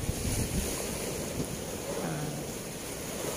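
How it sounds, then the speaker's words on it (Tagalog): Strong sea waves surge and crash in a continuous, fairly loud wash mixed with wind buffeting the microphone, with no voices heard. "Nara amo ang dagat."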